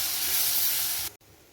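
Whole spices, including black pepper and star anise, roast in a hot pan with a steady loud hiss that cuts off abruptly and leaves only a faint quiet background.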